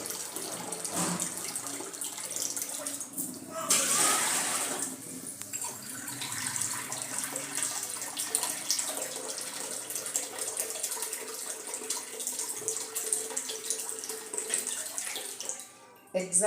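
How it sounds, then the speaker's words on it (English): Water pours steadily into a small sufuria cooking pot in a home kitchen, a continuous running splash that lasts throughout with a brief louder gush near the start. "So I'll use 2 bowls"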